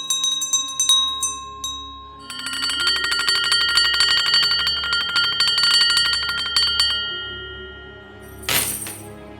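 A bell rings with bright, repeated metallic strikes that build into a sustained, shimmering peal, fading before a short harsh burst near the end.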